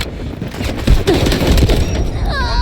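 Sustained automatic gunfire from the video game Delta Force rattles on without pause, close and loud, with heavy low thuds and a brief electronic chirp near the end.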